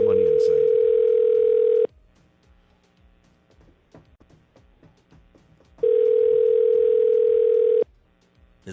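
A steady telephone dial tone on a phone line sounds for about two seconds, falls silent while faint background noise and soft clicks continue, then returns for another two-second stretch, loud and close.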